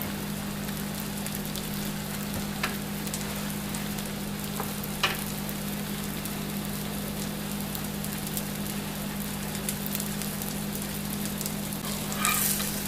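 A tortilla topped with melting cheese fries in a hot pan, giving a steady, even crackling sizzle that continues throughout with a few brief louder pops and scrapes near the end.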